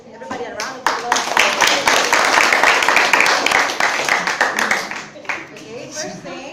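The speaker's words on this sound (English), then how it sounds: "Let us first give everybody a round of applause." A class audience claps after a student English debate, with sharp individual hand claps merging into brisk applause that thins out toward the end, while voices talk over it.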